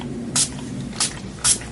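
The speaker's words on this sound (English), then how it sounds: "I literally take this, comes in a spray bottle." Three short hissing spray bursts from a spray bottle of hair product, close by and evenly spaced, over a low steady background hum.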